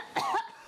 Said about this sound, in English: The experiment progressed with sneezing, achoo, and coughing.